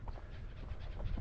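A bird dog pants rapidly and close up in a steady rhythm on a wild chukar hunt, with no voice over it.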